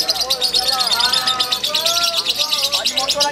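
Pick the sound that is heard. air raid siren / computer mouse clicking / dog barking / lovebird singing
lovebird singing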